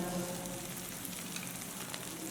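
Potatoes frying in oil with turmeric, onion-garlic masala and spices, a soft, even crackling sizzle heard close but quietly, steady throughout a brief stretch with no voices.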